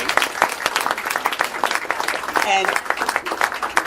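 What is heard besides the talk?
classroom audience applause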